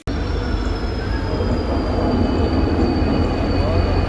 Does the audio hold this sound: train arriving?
yes